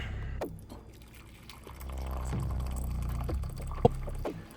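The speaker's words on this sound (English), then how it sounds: "And pour some tea." Tea poured from a pot into a cup with sugar in the bottom, a steady close trickle lasting a couple of seconds, with light clinks at the start and a sharp tap near the end.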